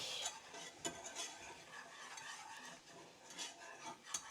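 Flour is stirred into melted butter in a pan, a soft, close scraping and swishing with light clinks of a utensil against the pan, quiet and continuous.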